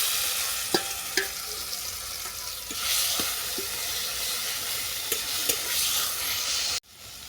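Dried red chillies fry in hot oil with a continuous close sizzle, broken by a few sharp clicks and taps of a utensil against the pan.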